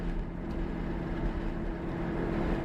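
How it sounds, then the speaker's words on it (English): A 2011 Lotus Evora driving down a residential road, its engine giving a steady low hum and drone from inside the car, with no talk. "I don't know if the noise of the engine is coming through like it does for me."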